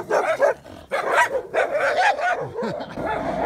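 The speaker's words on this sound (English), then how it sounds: "Uh-oh, vicious dog alert." A small dog guarding a fence in the Cuenca countryside of Ecuador barks in a rapid, yappy series of loud, close barks, with brief pauses and a whiny tail near the end.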